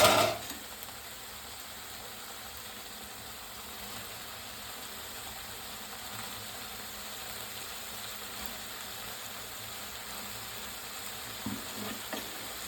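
Capsicum sizzles steadily as it fries in a curry pan for a cauliflower curry, with quiet stirring scrapes and a couple of louder clatters near the end; no one speaks.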